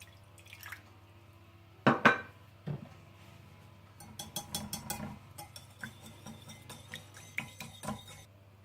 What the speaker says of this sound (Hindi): बिल्कुल थोड़ा सा पानी डालकर अच्छी तरह से मिक्स कर लें।